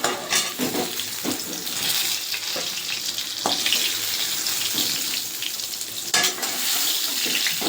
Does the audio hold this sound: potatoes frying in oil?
yes